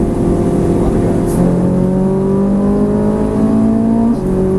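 A Ferrari 458 accelerating on a track with the throttle open, its engine note climbing steadily and loudly from inside the car, with a brief shift partway through.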